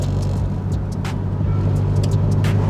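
A Subaru WRX STI drives along a road, its engine a steady, loud, low drone with continuous tyre and road rumble heard from inside the car, no talking.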